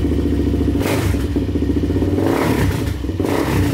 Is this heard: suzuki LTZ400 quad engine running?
yes